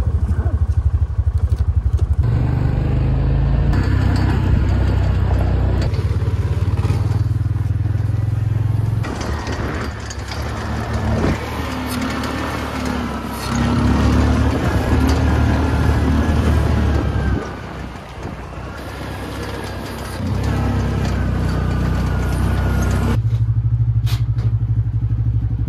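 An old vehicle's engine runs loud and near during a test drive, its note rising and falling with throttle changes and briefly dropping away near the end, with some rattling clatter.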